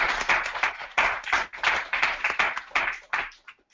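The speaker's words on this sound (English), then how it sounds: "if we clap loud enough, hopefully you can hear us" A small group claps in bursts at the close of a software demo call, sharp close claps forming several uneven waves that thin out and stop near the end.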